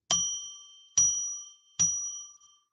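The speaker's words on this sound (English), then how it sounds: "I'm going to ring a bell 3 times now and declare a sacred space." A bell struck three times at an even pace, each ring loud and near with a long ringing decay, in an otherwise quiet room.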